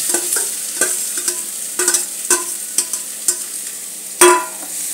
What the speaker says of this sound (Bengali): গাজরটা দিয়ে সব মশলাগুলো দিয়ে আমি ভেজে নিচ্ছি আগে।